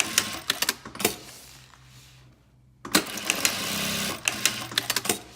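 An AE-SLS-7 louvre sewing machine runs in rapid mechanical bursts, with clattering needle strokes and sharp clicks close by, then a brief quiet pause before the machine starts again for another run.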